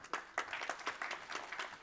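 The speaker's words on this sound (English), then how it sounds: "A big applause again." Audience at a green technology conference stage applauding, a quiet, steady patter of many hands clapping heard from a distance, with no talking over it.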